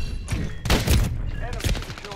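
An SP-R 208 marksman rifle fires in Modern Warfare 3, giving a couple of sharp, heavy booming reports amid busy game noise and possible voice.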